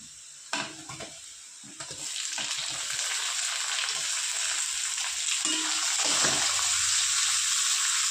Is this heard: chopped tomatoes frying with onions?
yes